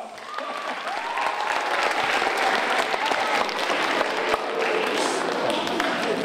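An audience on hand for a stage demonstration bursts into dense, sustained applause, many hands clapping together in a steady, close wash that holds for several seconds.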